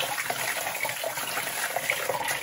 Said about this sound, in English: I'm just going to rinse it in the same heat that the wool is at right now.